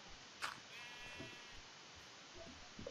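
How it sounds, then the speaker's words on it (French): Sheep bleating in a French-language video game with mountains, a short wavering bleat rising out of a steady background hum, one brief call fairly near and alone without talk. "bonjour les moutons, vous colonisez à ma place"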